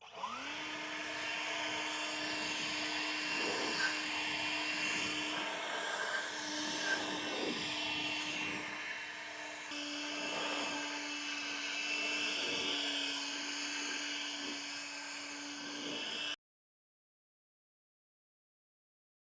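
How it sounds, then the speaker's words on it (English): An Ego leaf blower clearing debris off an RV roof over the slide-out and awning track, a loud steady whirring drone with slight surges for about sixteen seconds before cutting off. "use my Ego blower to blow the roof off where the slide is"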